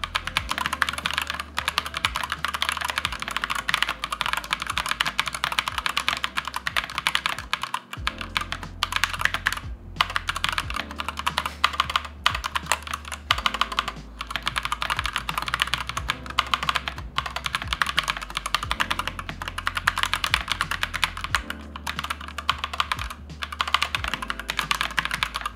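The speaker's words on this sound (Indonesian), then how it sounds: "Pengalaman gue ketika pakai keyboard Vantage Atom 96 yaitu yang pertama ketika dipakai untuk ngetik" Typing on a Fantech ATOM96 MK890 mechanical keyboard, a fast, steady stream of close clicky keystrokes with brief pauses, loud and continuous with no voices.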